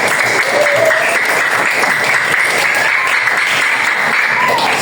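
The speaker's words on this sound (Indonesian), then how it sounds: "Tepuk tangan untuk Astia di sini." Steady classroom applause from a group of pupils clapping for a classmate, dense and continuous throughout at close range, with faint voices mixed in.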